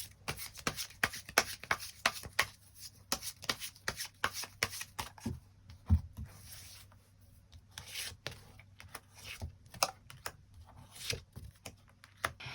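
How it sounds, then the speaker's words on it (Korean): Tarot cards being shuffled and drawn, close-up papery riffles, taps and slides in uneven quick bursts with short gaps, no voices. "추가 카드 뽑아보도록 하겠습니다"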